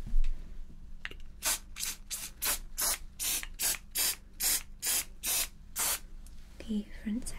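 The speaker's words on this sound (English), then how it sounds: "I'm going to spray" A can of hairspray sprays onto a styled wig in about a dozen short, even hissing bursts with brief gaps between them, close and fairly soft, followed by a little quiet handling at the end.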